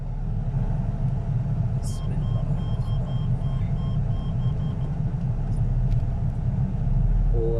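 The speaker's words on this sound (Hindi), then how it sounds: "और अब मैं ड्राइविंग शुरू करने लगा हूँ" Car rumbling steadily along a road, heard from inside as a constant low drone with faint beeps and clicks, and a voice briefly at the end.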